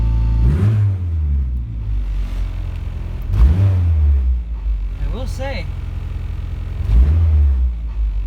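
A turbocharged Honda Integra with its exhaust cutout fully open blips the throttle three times, each loud rev rising and falling over a throaty idle rumble, with someone speaking briefly between revs.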